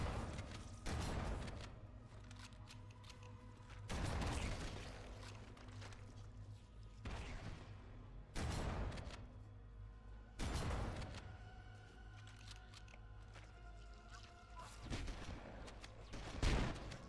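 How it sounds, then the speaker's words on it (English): Shotgun blasts from a top-loading 12-round shotgun in Halo 1 (2001), several loud booming shots spaced a few seconds apart over a steady low game rumble. "top loading 12 round shotgun"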